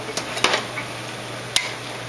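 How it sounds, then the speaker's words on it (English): Onions and spices, including chili pepper and star anise, being stirred in a cooking pan: a few short scraping clinks of a utensil against the pan over a soft, steady background hiss. "Mix it all up. And I'm just going to mix the onions in there."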